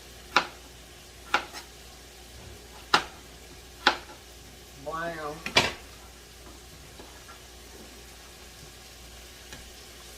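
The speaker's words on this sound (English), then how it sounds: "And the bacon cooking real good, y'all. I know y'all can hear it sizzling." Bacon sizzles in a pan as a steady, low hiss, punctuated by several sharp metallic clinks of utensils, with a brief spoken word partway through.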